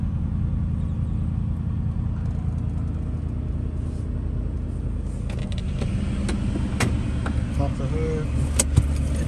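A 2003 Ford SVT Cobra convertible with an aftermarket clutch, headers and intake idles with a steady low rumble, a few clicks and rattles appearing later; a person talks over it.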